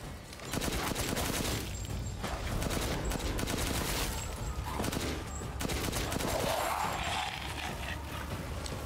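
Sustained weapon fire and combat noise in the video game Resident Evil Village form a dense, loud wall of sound with little pause, over a game soundtrack and effects.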